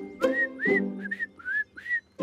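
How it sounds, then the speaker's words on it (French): A clear melodic whistle in several short rising-falling phrases, close and fairly loud, with brief pauses between them and no talking. "Il a sifflé sans savoir ce qu'il disait."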